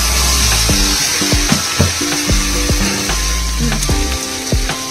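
Jackfruit pieces hit a pan of fried spice paste for a Bengali jackfruit and prawn curry, setting off a steady loud sizzle with repeated scraping and clinking of a spatula against the pan throughout.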